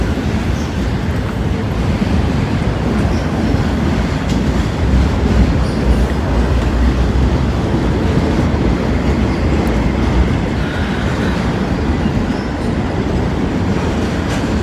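A train rolls past steadily on the rails at Kenova on a hot day, a loud, close, continuous rumble of cars and wheels with a faint squeal throughout.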